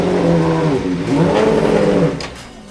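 A Formula One car launches as the clutch is released too quickly, giving a loud, close engine roar with a revving pitch that rises and falls for about two seconds before dropping away.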